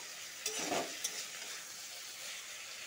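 Ginger frying in a pan on a stove for a Bengali rohu fish curry, a soft steady sizzle with a couple of brief stirring scrapes near the start, fairly faint and without voices.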